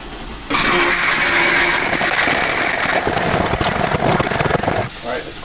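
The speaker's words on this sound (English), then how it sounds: "Peas are ready to blend, excuse the noise." A kitchen blender whirs loudly as it blends peas. It starts abruptly, runs as a steady, close, grinding roar for about four seconds, then stops.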